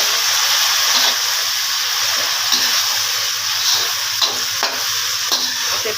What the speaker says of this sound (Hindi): तो अब इसमें मैं टमाटर 4 जो दिए थे वो ऐड कर इसकी तरह से मिक्स कर देंगे।